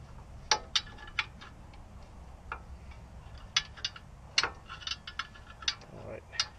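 Rear drum brake adjuster wheel being turned by hand, giving sparse, faint, sharp ratcheting clicks at irregular intervals over a quiet background.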